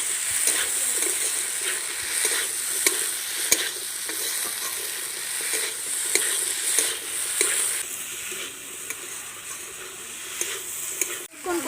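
Figs fry in a pan with pre-fried potatoes added, making a continuous sizzle under repeated stirring scrapes and occasional spoon taps, fairly quiet and close, with no one talking.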